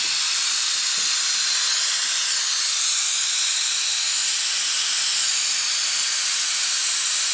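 Steady loud pneumatic hiss from an air-powered machine draining thick, dirty power steering oil from a car, continuous and close with no talking.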